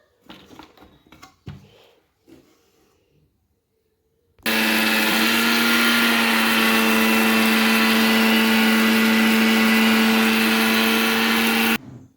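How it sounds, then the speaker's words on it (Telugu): Roasted Navara rice is ground in a kitchen mixer grinder; after a few soft handling knocks, the motor roars on loudly and runs steadily for about seven seconds before cutting off. "ఈ నవార రైస్ని మిక్సీ పెడతాను"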